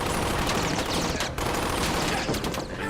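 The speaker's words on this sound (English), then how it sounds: "Give me suppressive fire on building 2" Suppressive gunfire in a film battle scene: dense, continuous bursts of automatic weapons fire overlapping into a loud, chaotic fusillade with no pause.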